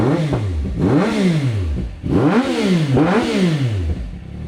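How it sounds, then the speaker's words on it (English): A CFMOTO 675 SS motorcycle fitted with a Yoshimura exhaust revs hard twice up close, each rise climbing sharply then dropping back, with a loud rumbling idle between. "I'm gonna rev it like twice because my neighbors are gonna really hate me"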